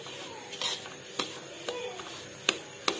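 Semolina roasts in ghee in a pan while a spoon stirs it, producing soft scraping with a faint sizzle and several sharp metallic clinks against the pan at uneven intervals.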